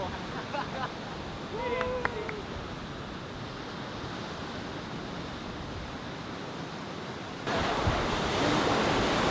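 Ocean waves wash steadily onto a sandy beach at the southern tip of a coastal seaside path, a broad continuous surf roar with wind, briefly touched by a faint bird-like chirp, growing louder and nearer near the end.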